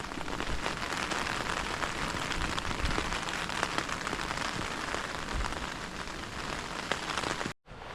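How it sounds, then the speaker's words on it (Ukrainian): A brief rain shower patters steadily on surfaces by a wild pond, a dense even hiss of drops, fairly quiet and continuous before cutting off abruptly near the end. "дощик пройшов, особо нічого не намочив"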